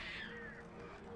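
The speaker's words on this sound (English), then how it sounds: "More birds." Crows caw in the video game Alan Wake, a harsh descending call up close over a dense, noisy game soundscape.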